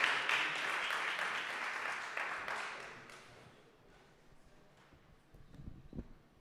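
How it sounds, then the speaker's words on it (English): Conference audience applauds a sports company CFO coming on stage, a burst of clapping that fades over a few seconds into quiet room noise with some faint thumps. "Applause, please."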